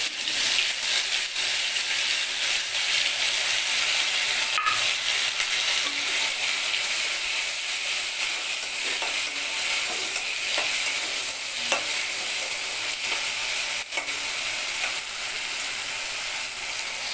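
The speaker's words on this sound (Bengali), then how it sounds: "টমেটোগুলো ভাজা ভাজা হয়ে গেলে সর্ষে পোস্তটা দিয়ে দিচ্ছি।" Tomatoes fry in a pan with mustard-poppy paste as a steady bright sizzle runs throughout, broken by scattered scrapes and clinks of stirring, close and continuous with no voices.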